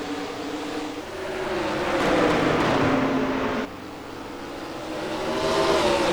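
Race cars in a racing game, Riverside track, restarting on the green flag, engines droning and rising as the pack accelerates, a steady loud roar with a brief drop midway before building again.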